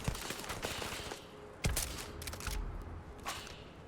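Gunfire in the video game Starfield, faint rapid shots and bursts popping over a busy game soundscape.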